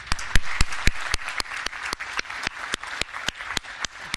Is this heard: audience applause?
yes